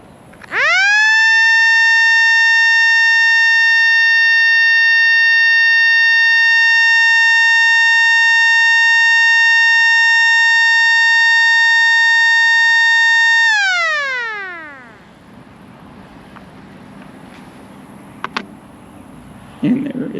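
A miniature Model L siren winds up quickly to a loud, steady piercing wail, holds it for about twelve seconds, then spins down with a falling pitch, leaving faint room noise.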